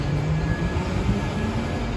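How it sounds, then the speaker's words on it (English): A train rumbles at Orlando's Lynx station, a close, steady low roar of rolling rail cars with a faint thin tone above, continuous and without talk. "right here we have the train station"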